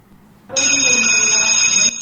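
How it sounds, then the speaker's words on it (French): An electric school bell rings loud and steady at a high school in Kodjoviakopé on the second day of the new school year, starting abruptly after half a second and sounding alone for about one and a half seconds. "La sonnerie a de nouveau retenti dans le lycée Kodjoviakopé ce matin."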